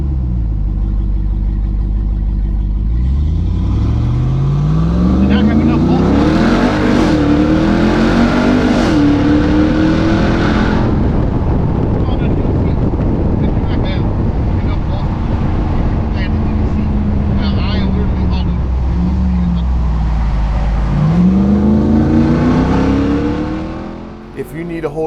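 Ram TRX truck with exhaust cutouts open in Baja mode, loud and close, revving hard with the gear held and then aggressive downshifts over a steady engine roar.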